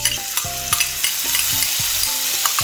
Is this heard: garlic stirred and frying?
yes